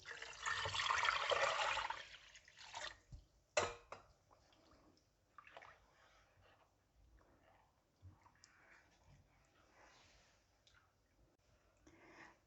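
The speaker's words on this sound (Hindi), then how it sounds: "तीन जग पानी के डाल देंगे।" Water splashes and gushes loudly into a cooking pot for a couple of seconds, then quieter sloshing and faint trickling follow with a few brief clunks, as kadhi curry is made.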